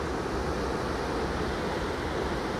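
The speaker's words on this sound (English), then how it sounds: "It's loud here. You can barely hear each other. We're 2 foot apart for the waterfalls and stuff." Loud, steady roar of waterfalls at Lampson Falls, a dense broadband rush that stays constant and close, drowning out everything else with no voices audible.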